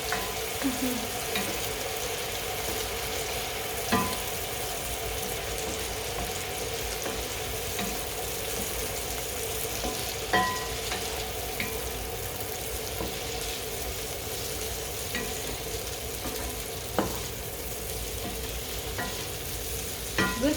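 Chorizo fries in a little olive oil for a prawn pasta, giving a continuous close sizzle and crackle with occasional clicks of utensils, and faint background noise throughout.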